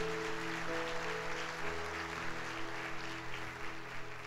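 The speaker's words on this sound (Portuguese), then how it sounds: "Quem recebe aí, dê um aplauso ao Senhor Jesus." A congregation at a Sunday church service gives a quiet, diffuse round of applause, largely masked by sustained keyboard or organ tones playing over it.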